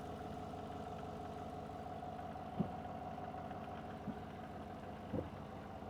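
Service truck engine idling at an auction lot with the hood up, a steady mid-pitched running drone with a few faint knocks and clicks, no voices.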